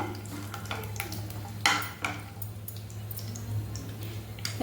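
Ingredients for a paneer kaju masala gravy frying in a pan: a steady close sizzle with frequent spoon stirs and scrapes against the metal, over a low kitchen hum.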